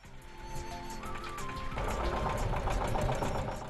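A low tractor engine idles steadily close by, its rumble swelling louder and rougher about halfway through, with a faint tonal hum early on.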